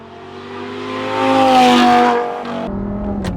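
The V10 engine of a 2010 Audi R8 with a gated manual gearbox revs up while driving, swelling to a loud howl and then easing off before a sharp shift-like change near the end.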